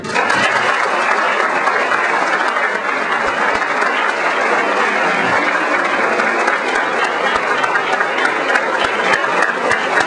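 An audience at a business and professional association dinner gives a steady round of applause, dense and even, with many hands clapping at close range and no voices on top.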